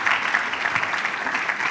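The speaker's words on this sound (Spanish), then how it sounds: "Un aplauso." Steady, dense applause from an audience at a construction-industry congress political debate fills the room evenly, close and continuous without any pause.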